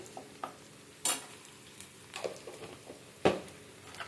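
Ginger paste goes into a hot pan for pulao and is stirred, giving a few sharp scrapes and clacks of the spoon against the pan over a faint, quiet sizzle.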